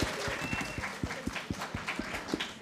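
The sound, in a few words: audience applauding themselves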